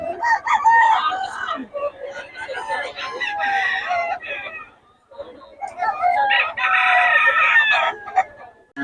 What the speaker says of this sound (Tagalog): ganda ng mga manok ni Boss Gag